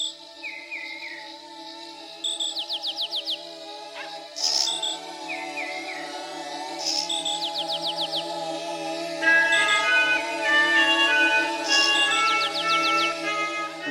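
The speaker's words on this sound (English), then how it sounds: "it kicks off with this wonderful sound of this buzzing of insects" Insect-like chirping and buzzing textures open a song, with repeated trilling chirps and bright tinkles layered over a sustained tonal hum, steady and full throughout.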